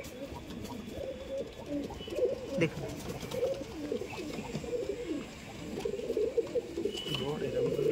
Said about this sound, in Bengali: লাল খায়রা পায়রা